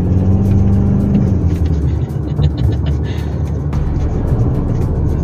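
A Toyota Hilux GR Sport pickup accelerates on a test drive, its engine a steady low rumble heard from inside the cabin, with brief clicks and light cabin noise over the drone.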